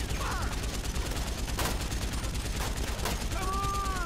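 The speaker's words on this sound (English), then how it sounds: "I think they are shooting." Rapid bursts of gunfire from a .50 cal M2 Browning on a military Humvee in the video game GTA 5, crackling in repeated volleys under steady background game noise.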